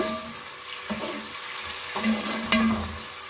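Onions in about half a cup of hot cooking oil give a steady sizzle and fry, with a few scraping stirs and clinks of a spoon in the pan.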